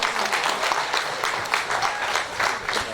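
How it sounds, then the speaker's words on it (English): A crowd at a World Tourism Day celebration applauds a university choir steadily, dense overlapping claps filling the room at an even, sustained level throughout. "Can we just clap our hands for the university choir?"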